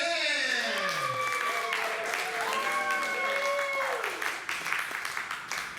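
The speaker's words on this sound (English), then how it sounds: "Let's have a big round of applause for Mr. Michael Mann." A theater audience applauds steadily for several seconds, with sustained sliding musical tones over the clapping before it thins toward the end.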